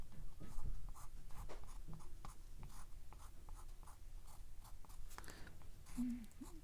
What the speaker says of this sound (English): you can go in again with the back of your brush and scrape the veins